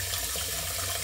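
Water runs from a tap into a bowl in a kitchen during cornmeal porridge preparation, a steady hissing splash at moderate volume.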